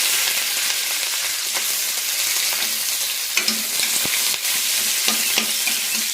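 Sliced onions frying in oil with bay leaf, cumin and green chilli for a soybean and egg curry; steady crackling sizzle with scattered spoon scrapes and clinks against the pan, close and loud.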